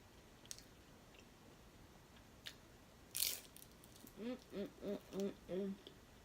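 A crunchy dumpling is bitten into at a Korean restaurant with one short, faint crunch, followed by soft rhythmic chewing while a voice hums along.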